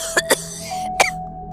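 Three sharp, close coughs: two in quick succession, then a short pause and one more, with no talking.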